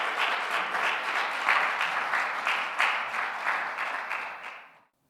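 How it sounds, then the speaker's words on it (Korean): A church congregation applauding at a Christmas tree lighting service, steady close clapping with a loose rhythmic pulse that fades out after about five seconds. "우리 빛으로 오신 예수 그리스도께 영광의 박수를 올려드립니다."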